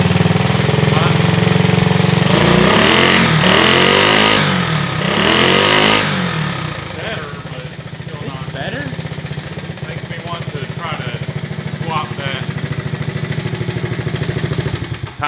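A modified Honda Trail 70 minibike engine with performance mods revs hard and loud up close for several seconds, then drops to a steady, rapid, chugging idle that continues to the end.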